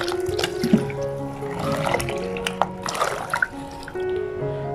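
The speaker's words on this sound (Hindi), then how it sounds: "इसके अंदर मैं पानी शामिल कर दूंगी 1 गिलास" A glass of water is poured into a cooking pot: close liquid splashing and trickling with dripping and clinking over a few seconds, moderately loud, with no talking.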